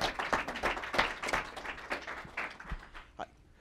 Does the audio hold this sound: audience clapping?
yes